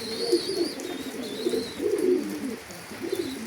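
A female pigeon, a free-flying kolong breeding hen, gives soft, repeated low coos close by, rising and falling in a continuous throaty rhythm.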